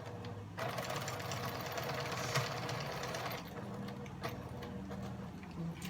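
Sewing machine stitching along a drawn line on fabric, a steady fast mechanical chatter that runs continuously at low volume, then slows briefly before resuming.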